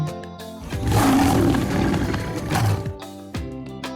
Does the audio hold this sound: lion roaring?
yes